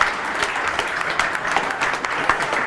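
Newsroom staff at News18 applauding together, a continuous crowd of clapping hands with a few sharper individual claps standing out, lasting the whole stretch at fairly close range.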